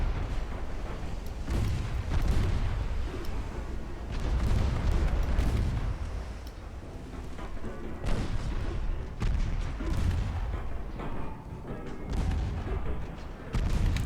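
A torpedo hit on a ship in a naval video game: repeated heavy, rumbling booms and blasts roll one into another at full volume, a dense and continuous barrage of explosions.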